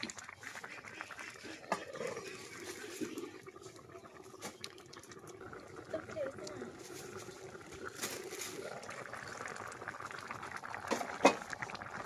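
Fish head curry with freshly dug potatoes simmering under a lid, a soft steady bubbling and hiss running throughout with occasional clinks, a voice talking faintly in the background.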